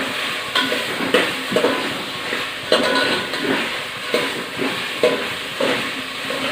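Potatoes frying in oil with pulpy onion and tomato for a prawn curry hiss steadily while a spoon stirs and scrapes the pan in repeated sharp strokes, up close.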